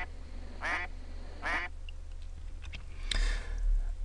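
Duck quacking sound effect: two clear nasal quacks close together, followed by a brief clicking bit and a softer, noisier burst, over faint background hum.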